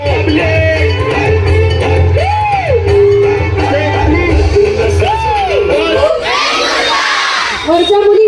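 Boisterous college crowd at Mahatma Phule college in Pimpri cheering and shouting for the Kurla to Vengurla film team, a dense continuous roar of young voices with whoops, rising into a louder burst of screams near the end.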